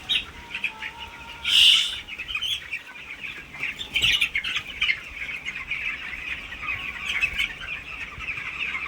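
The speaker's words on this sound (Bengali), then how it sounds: "তাও পাখি হাঁপাচ্ছে এত পরিমাণে" Chickens in a poultry farm shed on a hot day, fitted with ceiling and stand fans, give a busy chorus of squawks, clucks and chirps, with one loud squawk standing out near the start.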